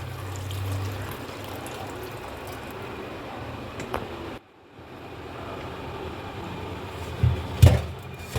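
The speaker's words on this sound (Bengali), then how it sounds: "আর এখন জল গরমটা এর মধ্যে দিয়ে দেবো।" Very hot water poured over pond magur catfish in a kitchen to loosen the slime, a steady trickling wash lasting several seconds, broken by a brief pause and a few louder splashes near the end.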